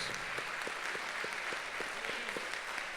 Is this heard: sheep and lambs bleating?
no